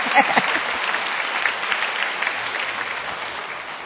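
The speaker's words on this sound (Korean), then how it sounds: "박수 한번 해주세요." Audience applause at a church service with a magic-trick demonstration, a dense burst of many hands clapping steadily for a few seconds, moderately loud and fairly close, fading slightly toward the end.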